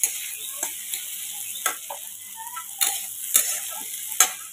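Cauliflower and potato frying in a pan, a soft steady sizzle broken by several sharp stirring clinks and scrapes spaced a second or so apart, close by with no talk.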